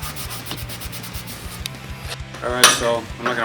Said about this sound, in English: just sanding the handle down.